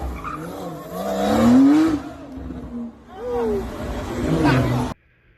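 Porsche 911 all-wheel-drive sports car, 473 horsepower, revving hard and roaring past with tire squeal, two loud surging passes in quick succession before cutting off abruptly.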